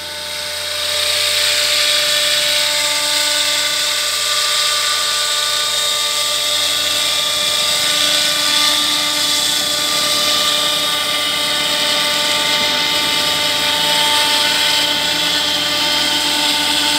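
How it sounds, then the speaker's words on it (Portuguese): Steady, loud whine of a small rotor with a high turbine-like pitch, holding constant throughout as a T-Rex 700 model helicopter settles down to land in a park. "Esse é o pouso mais manteiga de helicóptero que eu já vi."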